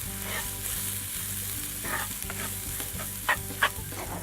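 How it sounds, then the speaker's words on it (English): Quinoa being stirred in a pan with vegetables and oil, giving a steady sizzle and frying crackle with scraping stir strokes and a couple of sharper knocks near the end. "I'm going to stir this up just to get it coated a little bit with the vegetables and the oil."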